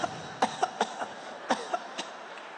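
A stand-up comedian imitates someone coughing on the other side of a wall, producing a series of short, sharp hacking coughs in an irregular rhythm, close and fairly soft, with no talk in between.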